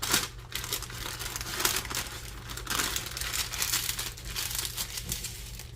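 Paper crinkles and crumples continuously as raw bacon is rolled up in it, close by and fairly quiet, with no one talking.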